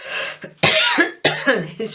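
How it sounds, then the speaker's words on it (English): A person coughs several times in quick harsh bursts, close up and loud, with short breaths between the coughs. "I can't stop coughing since."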